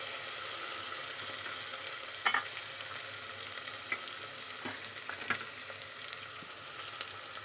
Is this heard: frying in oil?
yes